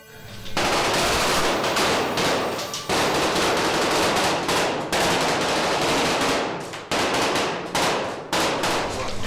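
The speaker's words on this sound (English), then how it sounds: "These bricks will blow apart that we're pre-rigging on the other side." Pyrotechnic charges blow apart bricks on a film set for Blade: The Series, giving a loud, dense run of rapid cracking blasts in several bursts separated by short breaks.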